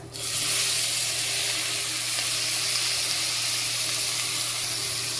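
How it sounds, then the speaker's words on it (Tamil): Chopped tomatoes hit hot oil with browned onions in a pot for mutton biryani, breaking into a loud, steady sizzle and hiss that holds evenly close up, with no voices. "இப்போ கட் பண்ணி வச்ச தக்காளி பழம் போட்டுக்கலாம்"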